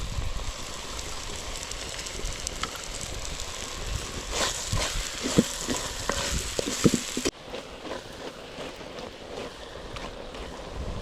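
Telangana-style mutton boti fries in a pan, a steady sizzle broken by several sharp scrapes and knocks of stirring, then a quieter, softer frying hiss.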